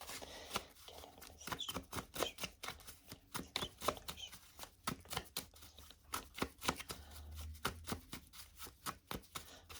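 A deck of printed cards is shuffled and cut, a quick run of crisp riffling flicks and soft taps close by, fairly quiet with no talk.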